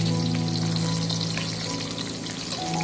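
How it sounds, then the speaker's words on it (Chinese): Scallion and ginger stir-fried in hot oil with chopsticks, giving a loud, steady sizzle and frying crackle throughout, close up, with light stirring. "再用筷子不停的翻炒，将葱姜炒至微微发干就可以了"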